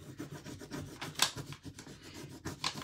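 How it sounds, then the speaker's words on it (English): A bird transfer sheet being rubbed onto painted wood for a porch leaner sign, giving a steady close scratchy rasp of repeated strokes, quiet, with one brighter squeak partway through. "you can just lay it back down and just keep on rubbing"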